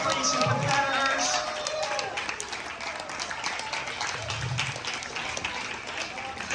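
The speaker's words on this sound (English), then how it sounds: "applause for these two amazing athletes and competitors." Outdoor crowd applauding two tennis finalists at a presentation, soft scattered clapping heard from a distance with low murmuring and a few faint voices beneath.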